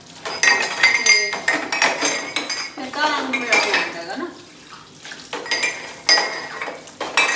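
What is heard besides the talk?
washing steel utensils, dishes clinking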